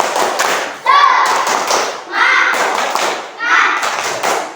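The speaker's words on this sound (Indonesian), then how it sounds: "Tepuk semangat." A fifth-grade class claps a rhythmic spirit clap in quick bursts, with chanting voices joining between the claps, loud and close.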